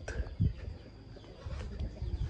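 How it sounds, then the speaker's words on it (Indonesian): A zebra dove coos softly in short repeated low notes, with faint chirps and outdoor background noise in a village. "Juga ada burung perkutut"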